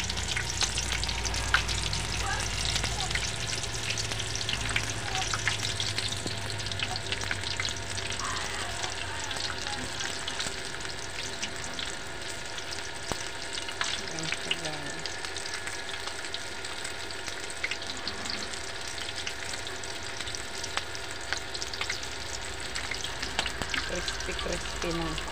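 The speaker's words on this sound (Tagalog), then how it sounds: "Para ipiprito na lang siya. Kakatakot guys, tumitilabsik ang mantika." Steamed pork leg deep-frying for crispy pata, oil crackling and spattering in a dense, continuous sizzle with sporadic sharper pops, steady and close throughout.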